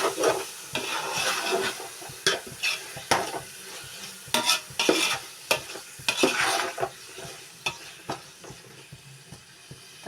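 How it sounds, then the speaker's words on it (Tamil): Tomatoes being stirred as they fry in a pan for chicken biryani, with repeated scraping strokes of a spoon against the pan over a steady close sizzle, no talking. "தக்காளி ஆட் பண்ணி நல்லா கலக்கி விட்டுக்கோங்க"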